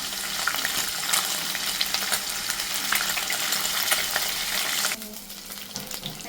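Fish fries in a pan of hot oil for a Bengali fish shukto, a dense close crackle and sizzle with occasional stirring clicks that drops suddenly quieter near the end.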